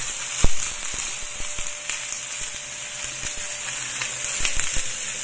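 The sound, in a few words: pork frying in a pan for adobo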